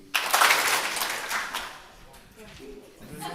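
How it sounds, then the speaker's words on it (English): A graduation-season gathering audience responds with one burst of clapping, a sharp crowded smack that fades into scattered claps and murmuring voices. "I want you to clap once if you know a student who graduated last week"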